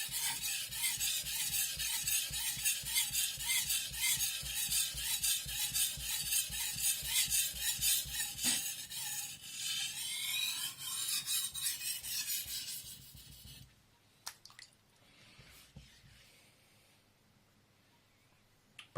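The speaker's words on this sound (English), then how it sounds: "you make sure you put a little pressure when you pull the knife to yourself" A kitchen knife is pushed and pulled in rapid rhythmic strokes across a wet Suehiro Rika #5000 whetstone. The close, gritty rasping repeats for about thirteen seconds, then gives way to a few scattered scrapes and taps in near quiet.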